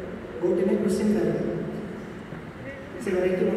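A performer's voice mimics a goat bleating in a stage mimicry act, with two wavering, nasal bleats at the start and near the end and quieter vocal sounds between them.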